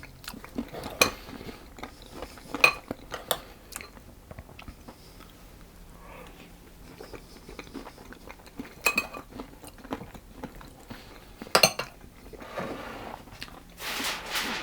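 Cutlery taps and scrapes on a plate while lemon roly-poly with custard is eaten, sharp irregular clinks scattered among quiet chewing sounds, close and intermittent in a quiet room.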